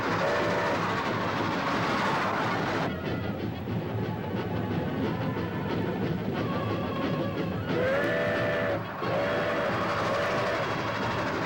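A train rumbles steadily with rhythmic clatter of wheels on track, and a whistle sounds briefly twice over the din.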